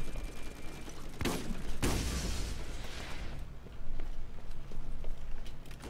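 Rapid bursts of gunfire from a gun in the Borderlands co-op game, two sharp loud blasts followed by a dense spray of shots that fades, with continued firing and background rumble.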